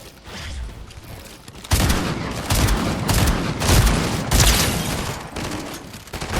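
Rapid gunfire in the Fortnite video game during a ranked keyboard-and-mouse match, loud, dense bursts of shots that begin sharply after a quieter opening and carry on continuously.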